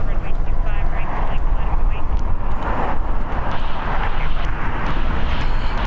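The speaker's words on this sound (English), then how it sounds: "The British Airways 777 is now on short final." British Airways Boeing 777 on short final at LAX, a broad steady jet roar holding at a loud, even level throughout, with wind buffeting the microphone and talk partly over it.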